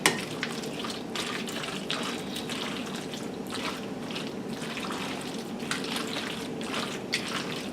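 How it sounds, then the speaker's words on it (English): A spoon stirs broccoli and mushrooms into thick leftover macaroni and cheese in a pan, making a steady, close, moist squelching and scraping that continues without pause and without talking. "Stir that around a little bit."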